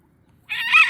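A farm chicken lets out one brief, loud, close cluck in the second half of an otherwise quiet moment.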